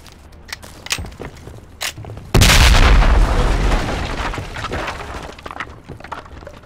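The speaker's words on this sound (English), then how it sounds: "We're gonna toss a frag in second floor." Frag grenade detonates on the second floor of a building in Project Reality's Falklands Goose Green map: after quiet footsteps and faint shuffling, a sudden loud boom hits and its rumbling debris tail decays slowly over several seconds.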